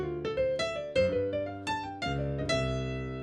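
A jazz piano lick played with a swing feel: a handful of clear, close notes and chords in uneven long-short rhythm, each ringing and fading, with no talking over it.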